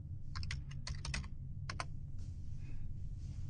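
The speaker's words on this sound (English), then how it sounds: "now I can go up here and I can type in instructor," Someone types on a computer keyboard in a quiet room: a few quick bursts of close, crisp key clicks, a short pause, then softer, fainter tapping.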